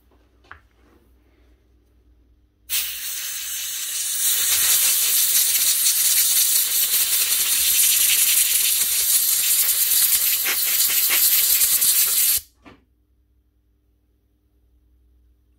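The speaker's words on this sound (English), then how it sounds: "then we'll put a bit of contact cleaner onto it." Contact cleaner sprays from an aerosol can onto a power tool part in one steady, loud hiss lasting about ten seconds. It starts and stops abruptly, with quiet before and after.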